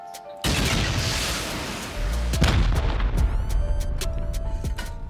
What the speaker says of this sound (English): A few rockets here should make quick work of these turrets